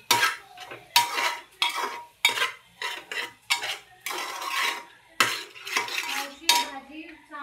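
A spoon scrapes and clatters against a pan in rhythmic strokes, roughly one per second, as masala is stirred and sautéed; the sound is close and metallic, with a faint sizzle between strokes.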